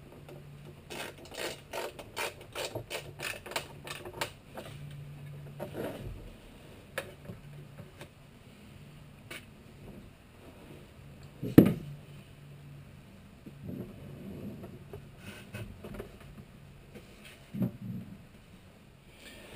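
Screws are driven into pre-drilled holes on a teardrop trailer build, giving a rapid ratcheting tick-tick series from a hand tool, then scattered quieter clicks and one sharp clack, all close by and fairly faint.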